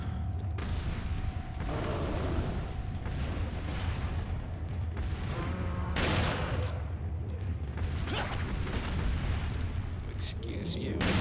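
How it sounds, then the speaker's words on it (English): Shotgun blasts in Resident Evil 4 boom out as a few heavy, widely spaced bursts amid ongoing game noise, with a person talking at points. "Let me use some of the shotgun ammo."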